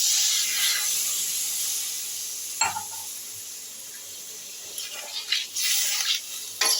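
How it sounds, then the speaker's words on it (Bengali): A splash of water poured onto drumstick vegetables frying with spices raises a loud steamy hiss that slowly settles, with a few bursts of sizzle and utensil knocks near the end. "এই পর্যায়ে আমি একটু জল দিয়ে দিলাম"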